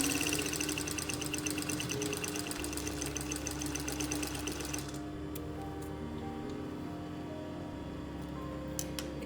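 A sewing machine stitching a skirt seam runs in a fast, even mechanical patter for about five seconds, then stops and leaves quiet room tone with a few faint clicks.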